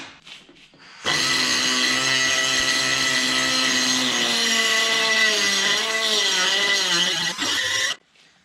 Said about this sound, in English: I'm using this Ingersoll die grinder to kind of come in here and clean that all up